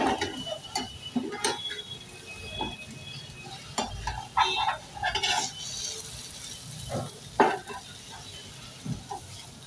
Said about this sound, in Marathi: हे दोन्ही बाजूने ना आपण व्यवस्थित फ्राय करून घेतलेलं आहे